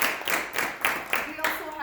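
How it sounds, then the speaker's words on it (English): A short burst of hand clapping, a handful of distinct claps in a quick irregular rhythm, fairly faint. "we also want a round of applause for that commission"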